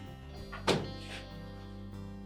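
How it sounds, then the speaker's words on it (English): A Whirlpool refrigerator door swings shut with a single firm, close thunk, followed by a brief rattle and a steady low hum from the appliance. "And now we're ready to close the refrigerator back up."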